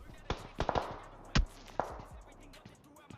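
Distant gunfire in the PUBG battle royale game: a handful of sharp, scattered cracks spread over a few seconds, one louder report near the middle, faint and far-off over a quiet background.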